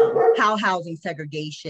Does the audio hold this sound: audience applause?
no